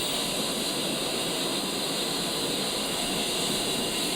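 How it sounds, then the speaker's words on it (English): A-10 jet engine spooling up during a cold start in the DCS flight simulator, a steady, loud, continuous broadband roar with a high whine, running alone without talk. "As the engine spools up"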